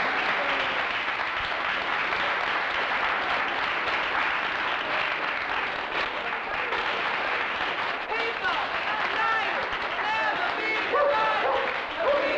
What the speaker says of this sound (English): All the good people here deserve a good hand and applause.